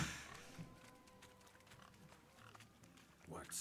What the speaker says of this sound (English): First, let's chase some pigs.